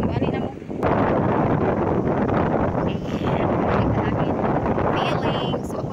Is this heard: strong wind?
yes